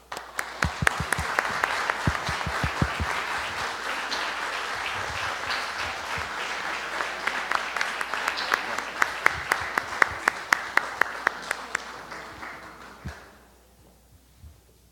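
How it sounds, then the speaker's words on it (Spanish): Audience applause at a university accreditation ceremony for a mathematics program, a long sustained round of sharp, irregular claps that gradually thins and stops near the end, leaving quiet room tone. "Recibimos a la comisión con un fuerte aplauso."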